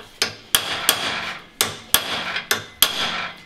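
Hammer blows drive a chisel against the cylinder head of a 95-year-old car, six sharp metallic strikes spaced roughly half a second apart, close and loud, with no talking.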